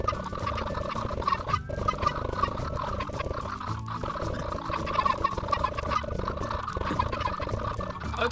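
Minecraft chickens clucking in a dense flock beneath an end portal, a continuous chorus of overlapping bird calls with no pauses, fairly loud and steady throughout.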